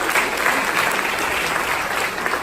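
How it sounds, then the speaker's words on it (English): A stand-up comedy audience claps in a full, even burst of applause, loud and continuous for a couple of seconds. "everyone give John a nice big round of applause"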